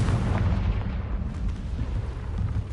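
A Confringo fire spell explodes in the video game Hogwarts Legacy, a dense, rumbling blast with heavy low-end boom that sustains loudly across the whole moment, no voices over it.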